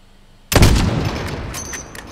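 A single loud rifle shot fired at a distant target in Modern Warfare cracks sharply after a brief quiet, then its echo decays and rolls away over the following second and a half.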